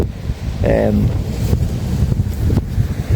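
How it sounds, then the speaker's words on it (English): Wind buffets the microphone on an Irish shore during smooth hound fishing, a steady rumbling roar close up, with someone talking over it. "The wind is coming in off the back."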